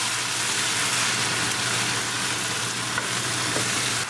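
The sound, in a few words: diced tomatoes and onion frying on high gas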